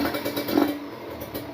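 A cold Kawasaki Ninja RR two-stroke motorcycle engine running at night on a B9ECS spark plug, a close, loud, rough idle with a brief rise in revs, no talk.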